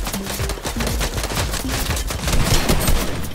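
Rapid bursts of gunfire from the video game Fortnite, dense overlapping shots crackling steadily and loudly throughout, growing a little heavier toward the end, with no talking.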